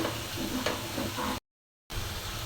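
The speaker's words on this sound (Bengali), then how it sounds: "ডিম ভুনা করার জন্য মশলাটা কষিয়ে নিচ্ছি" Spice paste being fried for egg bhuna, a steady close sizzle with stirring scrapes, briefly cut to silence midway before resuming.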